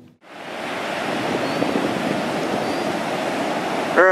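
Rough ocean surf churning before Hurricane Irene: a steady, loud wash of breaking waves roars continuously without letup, with no voices over it.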